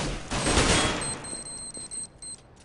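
Rapid dual-pistol gunfire in a Counter-Strike match, a quick burst of close, loud shots followed by sharp shorter pops and a thin high ringing tone, with no talking.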